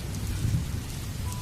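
Rain falls steadily on a rainy night with a low rumble of thunder beneath it, a dense continuous wash with no voices.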